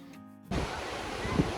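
Strong storm surf on the ocean shore at Tenerife breaks in after a short quiet moment, becoming a loud, continuous, rumbling wash of water that swells near the end.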